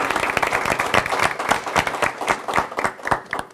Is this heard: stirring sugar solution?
no